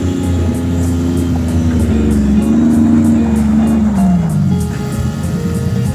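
A car engine labouring and bogging down in icy snow, a loud continuous low drone with wavering pitch that sags and strains throughout, steady and close.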